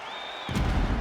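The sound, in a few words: crowd cheering after a round in EA Sports UFC 5 video game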